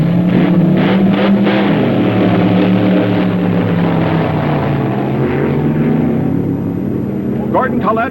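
A 1965 top gas dragster run at a drag strip, the engine roaring loudly and continuously as the car passes, its pitch sliding downward, with faint voices near the end.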